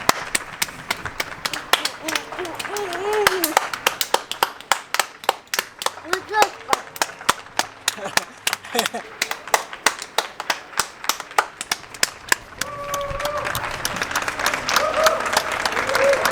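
Several people clap their hands in an irregular, loose rhythm, a string of sharp slaps outdoors during King's Day under coronavirus quarantine in Amsterdam, with voices and some singing mixed in throughout.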